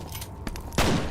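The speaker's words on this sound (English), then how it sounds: "That's a grenade." A grenade blast in the F.E.A.R. first-person shooter, heard as a short burst of gunfire-like cracks followed by a loud, sudden explosive rush near the end of the second-long moment.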